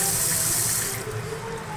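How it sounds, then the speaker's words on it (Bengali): Water gushes steadily from a newly fitted tap opened wide in a flat, a loud continuous hiss and splash close by that eases slightly partway through. "দেখো যত মোটাই কল খুলি না কেন কোনো স্পিড মানে ওপরে আর জল আসবে না"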